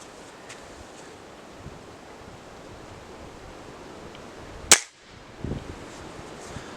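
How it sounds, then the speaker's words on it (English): A single .177 pellet gun shot fired at a phone outdoors, one sharp loud crack that stands out against steady wind noise, followed by a faint thud. "I have my .177 pellet gun. Going to take a shot to see if it stops it."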